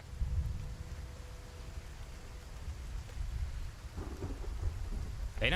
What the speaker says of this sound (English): The rain doesn't feel too obnoxious.